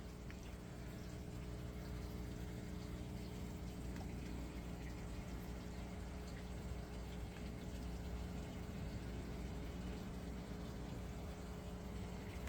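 Water running through a large custom-built aquaponics system, a steady close rushing and trickling flow with a low pump hum underneath, constant throughout with no talk.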